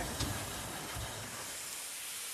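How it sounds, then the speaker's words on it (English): Steady, broad hiss of escaping steam from a small Terrier-class steam locomotive, loud and close, continuous for a couple of seconds with a slight surge near the start. "This locomotive behind me, Fenchurch, is what's known as a Terrier"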